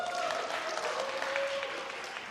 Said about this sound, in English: Round of applause for the first winner.